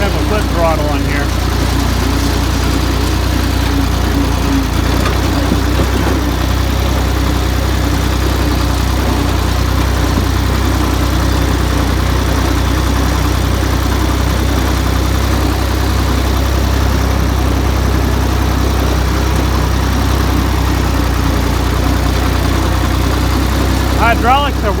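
A Ford 2000 tractor engine runs steadily at a low, loud drone with constant vibration throughout, never easing off, while a person talks over it.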